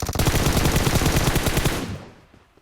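Automatic weapon fire from the mobile battle royale game PUBG Mobile, a loud rapid burst of gunshots lasting nearly two seconds before cutting off and fading into quiet.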